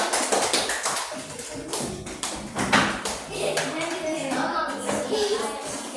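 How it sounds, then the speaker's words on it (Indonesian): Children in a primary school classroom applauding, a burst of many quick, dense hand claps that fades and then returns, with voices talking over and between the applause. "Tepuk tangan untuk kalian semua"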